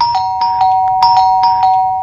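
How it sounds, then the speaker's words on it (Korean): A doorbell rings repeatedly as a sound effect in a Korean radio comedy sketch set at a home's front door at six in the morning, with several quick bright chimes in a row, loud and close, and no voices over it. "다음날 아침 6시부터 저희 집 초인종이 울리더군요"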